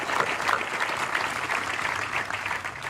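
A crowd at an Army Basic Camp graduation ceremony applauds a graduating cadet, with steady, moderately loud clapping that continues evenly from a distance.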